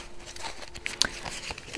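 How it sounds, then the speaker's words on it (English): Tarot cards are shuffled close by, making light papery rustles and a few crisp snaps, faint and quick, with no talk. "shuffle the tarot cards."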